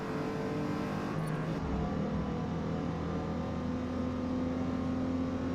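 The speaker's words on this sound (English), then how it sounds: "I need to hear that naturally aspirated W12." A naturally aspirated W12 engine in a racing video game holds a steady, loud drone throughout with a sustained pitch and no clear gear changes.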